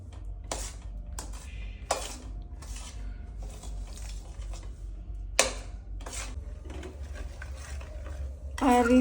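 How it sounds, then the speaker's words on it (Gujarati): Flour roasting in ghee on low heat for Gujarati winter adadiya, with repeated scraping and clinking strokes of a spoon against the pot over a faint low hum, fairly quiet and close. "આ રીતે આપણે લોટને શેકાવા દેવાનો છે, પણ ધીમા તાપે"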